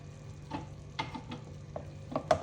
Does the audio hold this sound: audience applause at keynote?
no